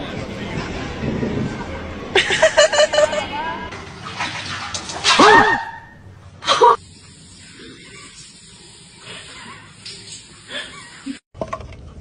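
Dogs barking in a played video clip, with several short bursts of barks and whimper-like yelps mixed with talk, followed by quieter background sound.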